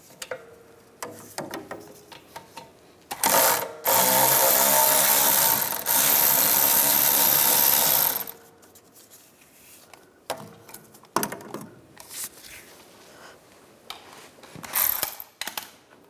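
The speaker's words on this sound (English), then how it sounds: "I'm gonna use a 15 millimeter socket and take the lower shock bolt out." A ratchet with a 15 mm socket works loose the lower rear shock bolt on a 2015-2019 Lincoln MKC, giving a loud sustained burst of rapid clicking, then scattered short clicks and metallic taps.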